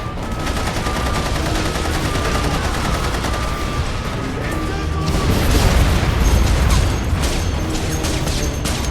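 Video game combat with grenade explosions and gunfire makes a dense, loud barrage of shots and booms that swell toward the middle, with a voice speaking over the noise.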